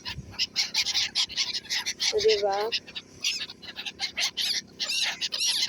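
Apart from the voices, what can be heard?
birds being fed bread in Dubai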